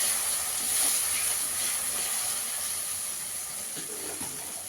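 Spice paste of ground green chilli frying in a hot pan for cauliflower korma, a steady close sizzle and hiss that holds at an even level throughout, with no voices.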